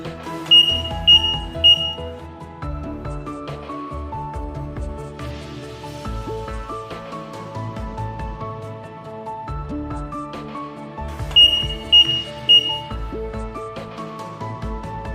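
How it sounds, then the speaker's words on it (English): A photoelectric wireless smoke alarm with a built-in lithium battery gives a set of three short high beeps, then after a stretch of other sound repeats another set of three beeps. "the smoke alarm unit will beep 3 times, indicating the smoke alarm clears connection successfully"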